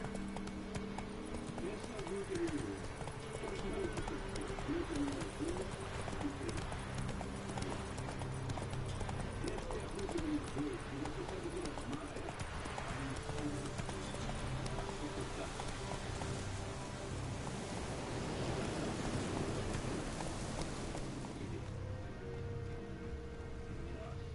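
Steady clip-clopping hooves of Roach, a horse ridden in a video game, trotting continuously under layered game ambience and voices talking over it.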